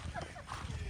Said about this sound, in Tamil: இங்கே இப்போ கட்டுறதுக்காக சில குதிரைகள்